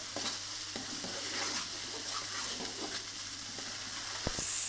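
Semolina halwa stirred and cooked in a pan, a steady soft sizzle of frying with scraping spoon strokes against the metal and a few sharper clinks near the end, continuous and close with no talk.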